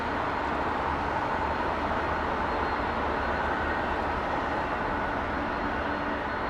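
A jet engine at London Heathrow Airport spools up into a steady, broad roar that holds constant and fairly close, with no voices.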